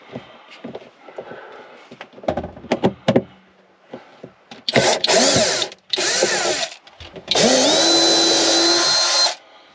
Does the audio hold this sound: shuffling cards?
no